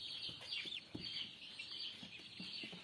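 Turkey chicks in a brooder chirp quietly and repeatedly in high, thin peeps, several overlapping calls with soft scratching and rustling beneath them, and no voices.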